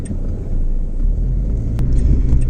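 A half-broken Renault Clio on a road trip gives a steady low engine and road rumble heard from inside, continuous and fairly loud with no talk.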